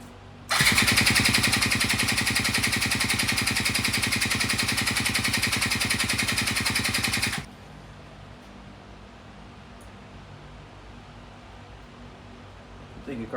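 A scooter engine cranks for about seven seconds in one loud continuous buzzing whir, then cuts off abruptly and fails to start, leaving quiet room noise.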